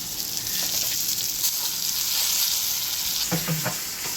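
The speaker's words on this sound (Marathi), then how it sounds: "एक पाच मिनटात पाच ते सात मिनटात मच्छी फ्राय होईल" Tamb fish frying in a pan, a steady close bright sizzle throughout with a few soft clatters near the end, no talking.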